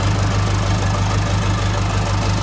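Inboard engine of a small motorboat running during a gearbox test, a loud, steady, close mechanical drone with a strong low hum and constant knocking vibration, with no talking.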